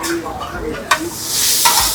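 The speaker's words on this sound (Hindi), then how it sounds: "ये देखो जी, दाल मखनी को तड़का लग गया" Tadka tempering for dal makhani hisses loudly at a street dhaba in Haridwar, a sharp burst of sizzling swelling into a steady roar with a couple of clanks from the pan.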